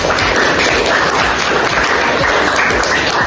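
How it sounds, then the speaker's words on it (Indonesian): Applause from a classroom of students for a group that has just presented, a steady dense clatter of clapping hands filling the whole moment without a break. "Beri tepuk tangan kepada teman-teman kalian dari kelompok"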